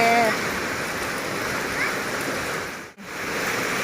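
Rising floodwater rushes with a loud, continuous roar during heavy rain, dipping briefly near the end before surging back.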